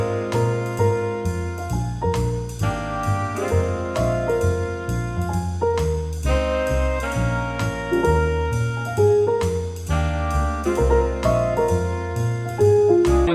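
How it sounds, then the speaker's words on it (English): A full jazz band plays a busy, swinging jazz-blues groove with bass, drums and chordal instruments together, steady and fairly loud throughout. "I'm going to give you the backing track, which is the entire band playing that you heard earlier."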